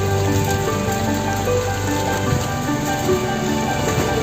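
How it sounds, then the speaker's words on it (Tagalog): Heavy rain pours steadily onto surfaces during an autumn walk through Kensington in London, a dense, continuous hiss of drops close by with no voices. "lakas ng ulan ngayon dito sa London"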